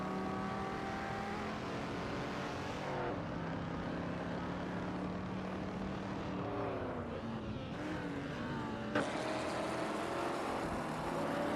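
AI-driven supercars lap Weatherfield Speedway in a video game, a continuous engine drone with pitch swings as cars shift and pass, steady and moderately loud throughout.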